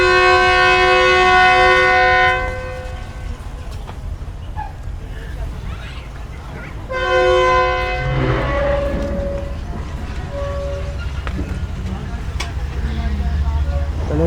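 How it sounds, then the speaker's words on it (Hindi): Pak Business Express passenger train pulling out of Bahawalpur station, with long blasts of the horn heard twice over a steady rumble of rolling wheels and carriages, plus voices in the background. "ट्रेन हमारी निकल चुकी है भावलपुर से।"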